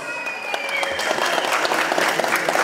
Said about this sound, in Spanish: regálenme un fuerte aplauso para el festejado al niño Héctor Sadán. Fuertes los aplausos.